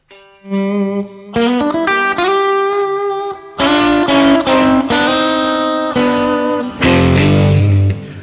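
An electric guitar with overdrive plays sustained chords and melodic lines, with delay repeats trailing behind the notes, loud and close.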